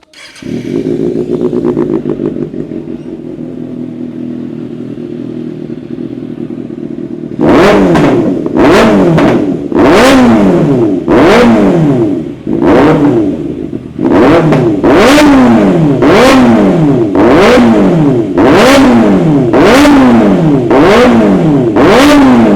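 A motorcycle engine fitted with a new aftermarket exhaust starts and idles, then is revved hard in repeated sharp bursts, each rising and falling, loud and close with no talking.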